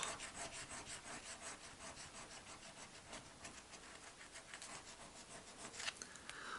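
A Dobble scratch-off lottery ticket scraped with steady, rhythmic rasping strokes, close and continuous, with a slightly rougher scrape near the end and no voices.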